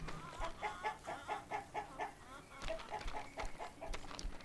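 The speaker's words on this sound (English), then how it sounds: "Chicken." Chickens cluck in the Inspector Schmidt video game, a rhythmic run of short, close clucks sounding at moderate volume with a slight pause midway.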